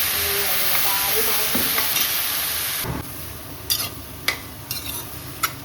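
Mushrooms frying in a pan and being stirred, a loud close sizzle with scraping stirs, fading to quieter sizzling marked by a few sharp utensil clinks against the pan.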